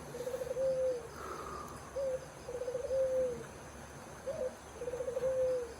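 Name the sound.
bird calling at night, owl-like hoots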